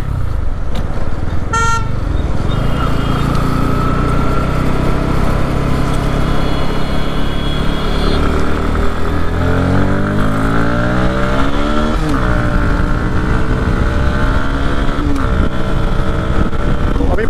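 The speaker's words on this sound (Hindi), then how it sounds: "तो अभी बाइक जो चल रही है वो 80 की स्पीड पर चल रही है" A motorcycle cruising at about 80 km/h on an open road, loud steady engine drone and wind rush with revs climbing and dropping, a brief horn toot near the start.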